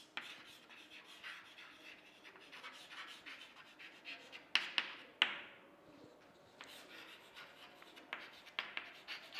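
Steady scratchy strokes of writing on a board, with a few sharper taps and knocks midway, fairly close and continuous, no voice over it.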